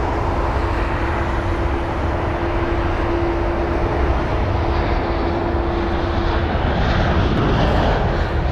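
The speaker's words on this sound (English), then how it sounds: "we've actually got a Delta 330 on the way over to us as well" A Delta Airbus A330 jet airliner approaches Heathrow, a loud, steady broadband engine roar with a sustained tonal whine, building slightly toward the end without any speech.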